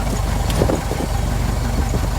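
A Ford Model T with a planetary gear transmission running in high gear on a museum drive, its engine a steady, close, even drone throughout.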